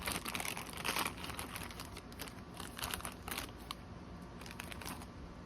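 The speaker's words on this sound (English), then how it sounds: "Oh, still in the black plastic bag." A black plastic bag rustles and crinkles close up in irregular bursts as it is handled and pulled open around a Super 7 Godzilla figure.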